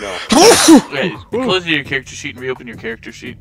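A loud, close sneeze bursts out at the start during an online Fate Core tabletop game session, followed immediately by a person talking.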